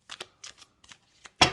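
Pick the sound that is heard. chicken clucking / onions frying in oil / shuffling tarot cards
shuffling tarot cards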